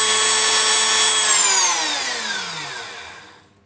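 A power saw cutting through a wooden N gauge model railway baseboard, whining steadily near and loud before winding down and trailing off at the end.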